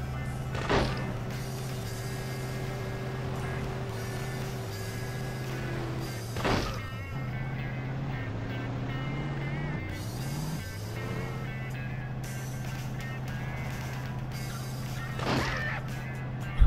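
Truck driven in Grand Theft Auto 2 on PS1, a steady low synthetic engine hum holding pitch with brief dips as it steers, broken by a few sharp clanking impacts, no speech.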